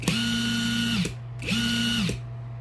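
A Hercules cordless impact driver runs in two bursts of about a second each, whirring steadily with a brief pause between them and a sharp start and stop on each trigger pull.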